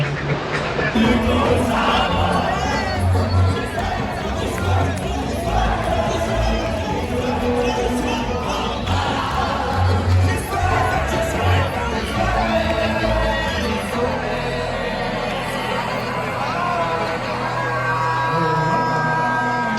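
Festival crowd at a heavy, punk-leaning folk concert in Montreal, cheering, shouting and whooping loudly and continuously over a dense wash of voices.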